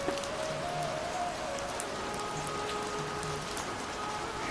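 Steady rain patters on a foggy mountain path near Kartik Swami Temple in Uttarakhand, a soft, even wash of drops with no talking.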